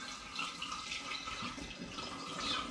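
Homemade sparkling wine made from coconut water is poured into a glass, giving a steady, soft splashing trickle that runs unbroken for a few seconds with no talking.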